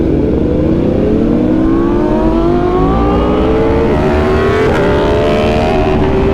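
A Yamaha R1 sport motorcycle being ridden gives a very loud, close engine note that climbs steadily in pitch under acceleration, then dips briefly and climbs again.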